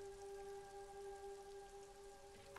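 Steady rain falls in the video game Disco Elysium, a soft, continuous hiss with a low tonal hum of ambient music beneath it, faint and even throughout with no voices.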